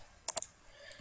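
A computer mouse gives a quick pair of close, crisp clicks followed by a third small tick, all very quiet against a near-silent background.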